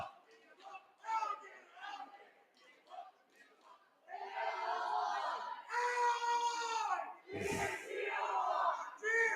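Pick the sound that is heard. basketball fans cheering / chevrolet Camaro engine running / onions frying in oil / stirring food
basketball fans cheering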